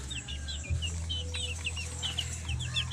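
Backyard chickens cluck and chirp in a quick run of short calls, close and moderately loud over a low rumbling background.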